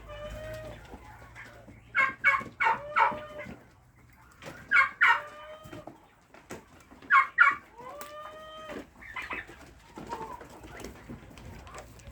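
A black rooster and hens at a livestock market, the rooster crowing loudly in three separate bursts with hens clucking and a pigeon cooing between them in a quiet, close setting.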